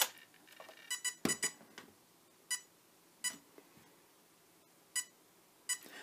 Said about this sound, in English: So now it's giving us the beeps indicating that it's on setting 1, option 1.